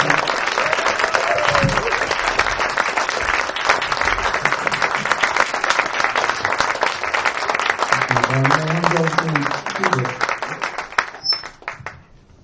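Loud, dense applause from a large audience at a youth jazz orchestra concert, sustained and close, with a brief musical tone partway through before the clapping thins and fades at the end.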